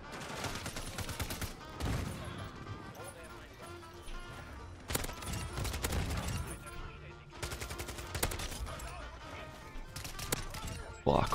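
Pistol fire from the game Modern Warfare 2 cracks out in rapid volleys amid game sounds, with someone talking over much of the shooting.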